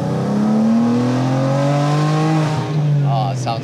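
A carbon fiber widebody BMW G82 M4 with a turbo engine pulls hard in one sustained, loud acceleration that rises steadily in pitch, then eases off as a voice cuts in near the end.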